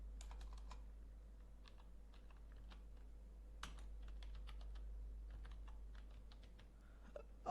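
Typing on a computer keyboard, faint and close, with quick irregular key clicks in bursts and short pauses over a low steady hum.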